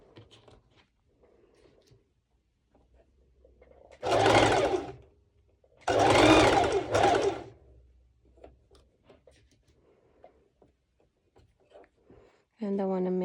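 A sewing machine stitching a skort seam runs in two close, loud bursts of rapid mechanical whirring, with quiet handling sounds and a voice heard faintly around them.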